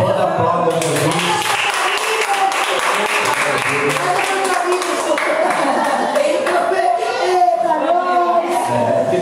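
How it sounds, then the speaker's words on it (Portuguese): A church congregation breaks into loud, sustained applause, many hands clapping together in a dense wash that continues to the end, with voices mixed in. "Quem pode aplaudir a Jesus?"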